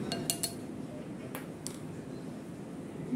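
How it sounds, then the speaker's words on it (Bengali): Flour, salt and sugar are mixed for naan dough in a bowl, giving a few light clinks and taps of a utensil against the bowl, then a quieter soft rustle. "ভালো করে একটু শুকনো উপকরণগুলো আমি মিক্স করে নিচ্ছি।"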